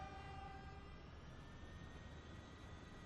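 Diesel single-unit trains starting a race in the Transport Fever game, a steady droning engine rumble with sustained horn-like tones near the start, constant and moderately loud.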